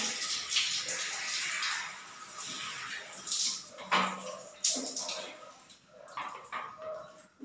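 Water splashes and pours during bathing, a loud, close, uneven spattering with short pauses as it is scooped and poured, with a voice speaking now and then.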